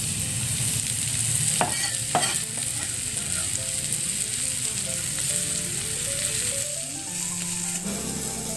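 Onions sautéed in a frying pan, a continuous close sizzle with intermittent scraping and stirring knocks of a utensil against the pan.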